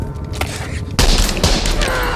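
A burst of gunfire plays in a dramatic scene, a loud broadband blast that sets off a sustained, rumbling wash of sound after a quieter, noisy opening, with no talk over it.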